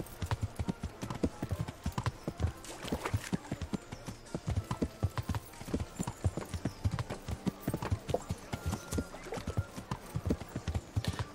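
Horse hooves clip-clop steadily and rhythmically while riding in the medieval game Kingdom Come: Deliverance, a continuous close trot running throughout with faint ambient game sound beneath.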